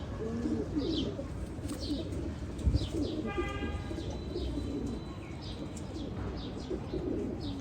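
Home-bred Firozpuri pigeons in a Bangladeshi loft keep up a steady low cooing throughout, with a few higher chirps and rustles over it.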